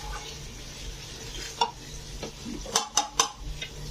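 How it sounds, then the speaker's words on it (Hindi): Spices and chicken frying for a curry in a pressure cooker, a low sizzle under several sharp scrapes and knocks of a spoon stirring against metal, closely heard. "मसाले भूजते हुए से 5 मिनट हो चुके हैं"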